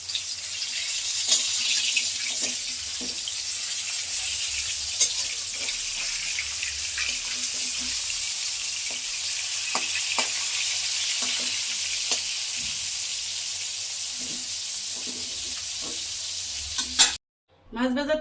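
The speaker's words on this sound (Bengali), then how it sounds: "এখন আমি মাছটা ভেজে নিব" Hilsa fish sizzles in hot oil in a wok, a steady close crackling hiss with occasional scrapes and stirring clinks, cut off briefly near the end.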